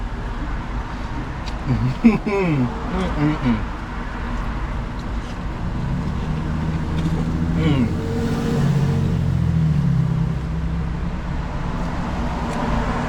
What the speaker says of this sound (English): People pulling up now. You got cars pulling up.